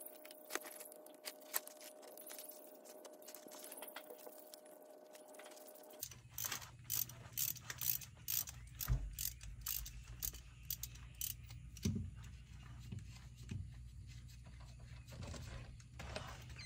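Metal clinks and ratcheting clicks ring out while a stuck bolt with a copper washer is worked loose during a 6-inch lift kit install on a 2022 Ram, a steady mechanical hum beneath the irregular tool taps.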